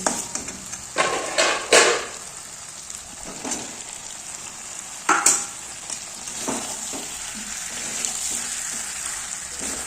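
Chicken curry frying in a pan as potatoes go in, a soft continuous sizzle broken by a few clattering drops and stirring scrapes, close and without talk.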